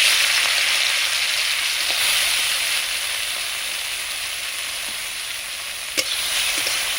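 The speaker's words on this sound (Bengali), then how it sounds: "প্রথমে আমি ছোট চিংড়ি মাছগুলো ভেজে নেব" Small shrimp fry in very hot mustard oil, giving a steady, close sizzling hiss with a few faint pops and one sharper crackle near the end; no one speaks.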